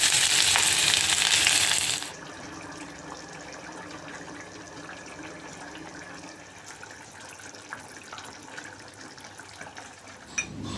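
Onions frying in a kadai: a loud burst of hissing for the first couple of seconds, then a steady, softer sizzle and crackle with no talking.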